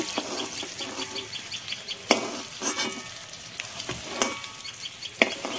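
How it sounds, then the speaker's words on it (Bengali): Eggs frying in hot oil in a pan, a steady loud sizzle broken by several sharp scrapes and clacks as a utensil lifts them out. "এইভাবে আমি ডিমগুলো ভেজে নিয়েছি, তুলে নিচ্ছি"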